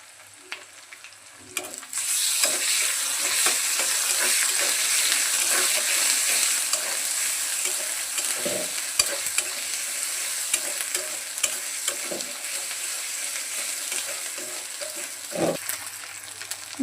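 Ground spice paste of onion, ginger, garlic and cumin fries in a pan with a continuous soft sizzle, punctuated by intermittent stirring and scraping strokes over several seconds.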